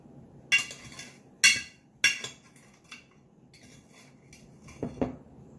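A 1/3 cup measure scoops brown sugar for an oatmeal banana cake, giving three sharp metallic clinks and scrapes at a steady pace, followed by softer rustles and a final clatter, close and with no talking.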